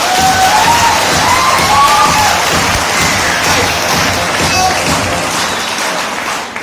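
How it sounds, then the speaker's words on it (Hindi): A large audience bursts into loud, sustained applause with cheering at a motivational event, the dense clapping filling the whole stretch at steady volume. "मैं आपको एक जोरदार तालियां बजा सकते हो"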